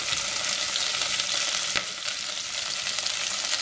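Chopped carrot, beans, curry leaves and potato sizzle steadily in hot oil in a pan while vermicelli upma is made, with one brief stir or clink midway and no voices.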